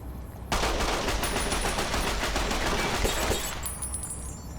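Scoped rifle fired repeatedly in Fallout: New Vegas, a sustained loud burst of rapid shots starting abruptly and running nearly four seconds before easing off, with faint ringing tones behind.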